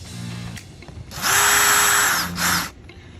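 A power drill drives screws into a Maxxair RV ceiling vent, whining briefly at first, then a sustained loud high-pitched run followed by a short second burst, close up.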